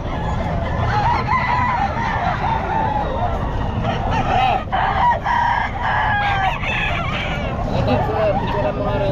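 Stag roosters crow repeatedly at a busy Bocaue pet market, several overlapping cock-a-doodle-doo calls and clucks rising over a dense crowd murmur and background chatter.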